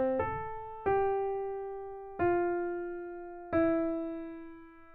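Four sustained notes of a slow melody in C Ionian mode, each struck cleanly and left to ring and decay, a bright tone with evenly spaced attacks, played alone.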